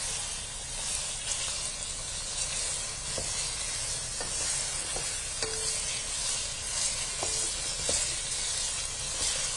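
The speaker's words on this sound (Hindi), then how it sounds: "ये आप इसको फ्राई करें।" Chicken tikka frying in a pan: a constant loud sizzle and hiss of hot oil, close up and steady throughout, with occasional light stirring taps and no voices.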